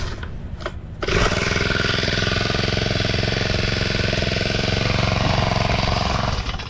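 A grass cutter runs in a farm field, its engine droning loud and steady after a brief quieter start, continuous and close with no talk over it.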